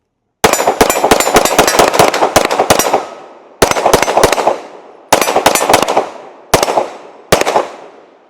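A Glock 47 pistol fitted with a Radian Ramjet compensator fires Federal 124-grain rounds, with a fast string of about a dozen loud, sharp shots followed by several single shots and short bursts, each trailing off in echo.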